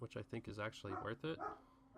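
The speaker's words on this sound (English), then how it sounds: "Sorry for the dog barking." A dog barks in short, repeated yaps close by, overlapping someone talking in the foreground.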